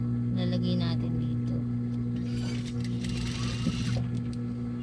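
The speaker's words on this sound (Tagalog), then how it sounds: "Habang tinatahi natin yung collar sa pinaka-neck niya, kasabay na tong bias dito." A sewing machine runs steadily, stitching a sailor collar onto the neckline of a school uniform together with bias binding, its hum continuous and close under someone speaking.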